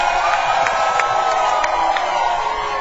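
A studio audience cheers and applauds in a dense, steady roar of claps and whoops, loud and close throughout.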